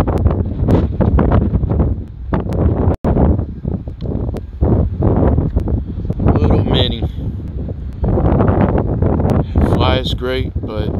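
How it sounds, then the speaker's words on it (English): Strong gusty wind buffets the microphone outdoors while a Mavic Mini drone flies nearby, a loud rumbling roar that rises and falls, with a person talking over it. "the wind is just very powerful today"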